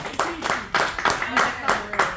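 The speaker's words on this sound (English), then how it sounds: "Let's give our volunteers a round of applause." A small group in a school session gives volunteers a round of applause: loose, uneven clapping in separate bursts, fairly quiet, with speech mixed in.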